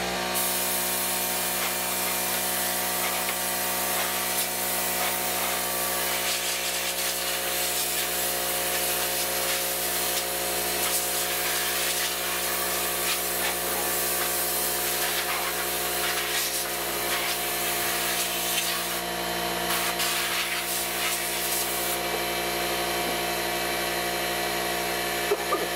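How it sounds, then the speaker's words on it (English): Compressed air blasts mud out of a Dodge Ram V8 engine bay, a loud, steady hissing rush that continues unbroken with slight scraping and rattling variations. "Cover things over, I'm going to blow it out."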